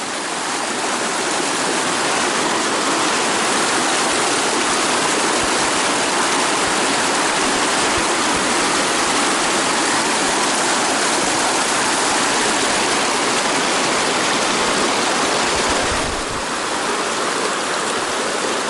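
A mountain stream at a wilderness trail crossing rushes loud and close, a steady full roar of flowing water that continues unchanged for the whole stretch.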